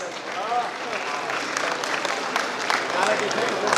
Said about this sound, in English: Give a big round of applause for all our luminaries